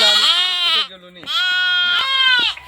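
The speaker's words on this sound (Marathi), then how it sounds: "तुमच्या आता या मेंढ्या चरायला जातात दूर दूर हो, हे बच्चे इथेच राहतात" Sheep and lambs bleating at a shepherd's camp, several loud, close, wavering bleats in quick succession with a short pause between them.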